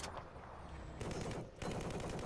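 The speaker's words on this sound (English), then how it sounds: "You guys are shooting." Gunfire in the video game Battlefield, on the Dragon Valley map: loud, dense bursts of shots fill the clip, with a short dip before the firing resumes.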